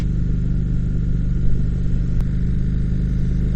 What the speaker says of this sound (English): I am really impressed with the rumble on the stock exhaust on this Chieftain.